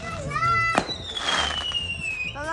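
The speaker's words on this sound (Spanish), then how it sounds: "Ya están empezando a tirar los cohetes." Fireworks and firecrackers going off at a Fourth of July campsite celebration, with a sharp bang and a long whistling rocket rising over crowd chatter and children's voices.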